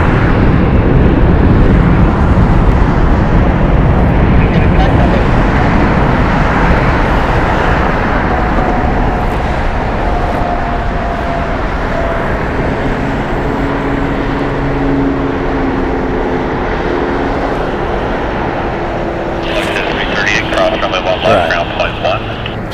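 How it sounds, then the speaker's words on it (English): A plane arriving at Las Vegas Harry Reid International Airport, a loud, rumbling jet roar that swells and then slowly fades over twenty seconds, with voices faintly present underneath. "Planes are sneaking up on me."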